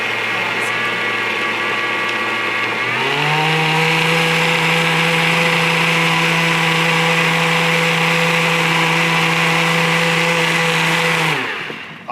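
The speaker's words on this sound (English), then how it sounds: "So now we're going to blend this." A kitchen blender whirs loudly and steadily for about eight seconds, blending ingredients during a live Christmas cooking show, its motor pitch rising as it speeds up, then cutting off near the end.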